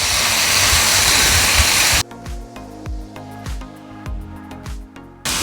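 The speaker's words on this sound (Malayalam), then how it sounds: "ഇനി ഇതിലേക്ക് കുറച്ച് വെള്ളം." Water pours steadily and loudly into a cooking pot for about two seconds while chilli powder and salt are being added, followed by scattered clinks and knocks of utensils against the pot.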